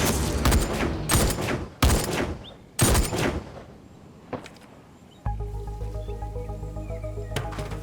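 Rapid bursts of gunfire in an action scene from a Chinese film, several loud volleys crowding the first few seconds, then a lull before steady rhythmic music takes over.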